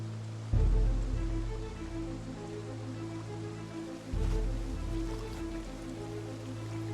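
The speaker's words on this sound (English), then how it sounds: "Then it started raining." Steady rain in the video game Project Zomboid hisses across surfaces in a continuous wash, with low rumbling swells rising twice under the constant patter.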